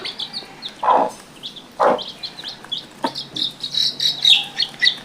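A hen clucks in a few low bursts while a chick peeps repeatedly in high, thin notes, close by.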